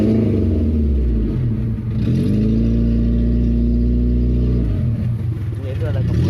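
A Suzuki car engine that has sat unused for a week is revved, its loud, close mechanical drone rising in pitch, holding steady, then dropping back toward idle.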